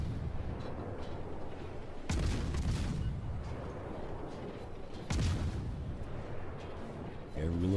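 Naval gunfire from a Gearing destroyer in World of Warships: two heavy booming salvos a few seconds apart over a constant low rumble of battle ambience.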